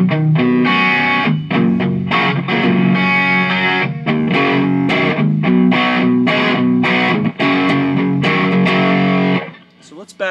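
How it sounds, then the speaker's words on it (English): Electric guitar through an iStomp Half-Pipe Overdrive pedal set near maximum, loud chords strummed in a steady rhythm, warm and saturated, ringing out briefly at the end. "So right now I've got it almost dimed with respect to the distortion or overdrive."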